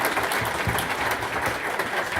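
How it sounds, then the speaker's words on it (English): Audience applause for four keynote speakers at a conference's opening remarks, a dense, steady roar of many hands clapping at once, fairly loud and even throughout with no talk over it. "So please, one more round of applause for these four guys."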